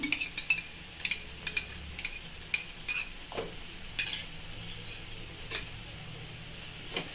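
A spoon stirs bread toast masala with tomato sauce in a pan, producing soft scraping strokes and occasional light metallic clinks over a quiet sizzle, close and moderately faint.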